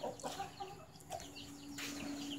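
A chicken clucks close by in a rural household setting, several short, uneven clucks in a quick run over a steady low background hum, with no talking.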